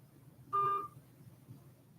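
A single short keypad tone from a phone dialer sounds once, brief and clear against a faint, quiet background.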